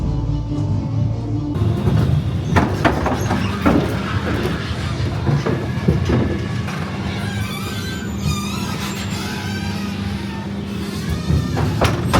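Steady low rumble of a ghost train ride car rolling along a track, with clanks and rattles and faint voices in the background.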